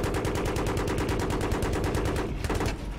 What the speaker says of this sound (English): My awesome skills with this machine gun is helping you out